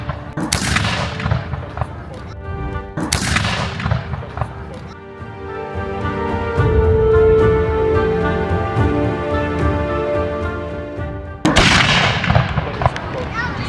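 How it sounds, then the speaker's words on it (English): Musket volleys fired by historical reenactors at a rainy heritage-park festival in Calgary: two sharp loud reports close together near the start, a sustained rumbling stretch in the middle, then another blast near the end. "now we are ready to fire, as you see some of our other reenactments"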